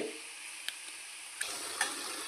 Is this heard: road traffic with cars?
no